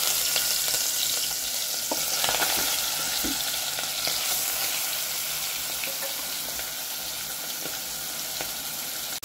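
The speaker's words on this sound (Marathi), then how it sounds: "तर आता तेल गरम झालंय। आता आपण याच्यात टाकणार मटन कलेजी।" Mutton liver fries in hot oil inside a cooker, giving a loud, close, continuous sizzle with occasional crackles and faint stirring, and no voices.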